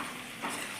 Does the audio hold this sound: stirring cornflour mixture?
yes